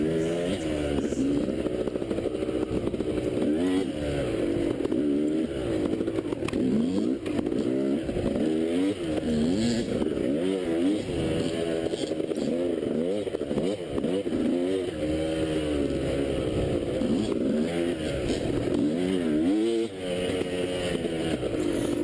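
A dirt bike on a muddy Evart motorcycle trail revs continuously and loudly, its engine pitch rising and falling in repeated throttle swells throughout the ride.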